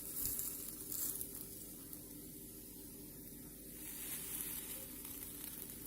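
Oiled bread parcels laid oiled side down on a ridged grill pan give off a steady, close sizzle and crackle, holding an even level throughout with no voices.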